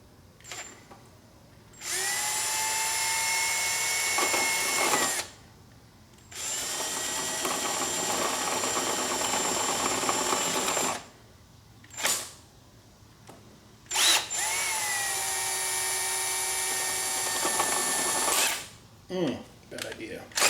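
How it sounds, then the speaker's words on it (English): A power drill with a half-inch bit whirs in long, loud bursts with short pauses between, the motor pitch steady and close, stopping and restarting several times. "I'm going to have to drill this to make it big enough to accept the adapter for the handlebar"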